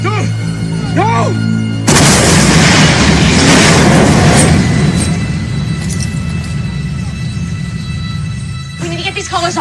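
A grenade detonates in a scene from the TV show The Gifted, a sudden loud boom that swells into a sustained roaring rumble and debris wash lasting several seconds, following a brief voice and fading back toward talk.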